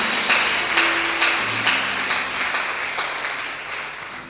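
Church congregation clapping after a prayer, a steady wash of applause that fades gradually, with a faint tone lingering beneath.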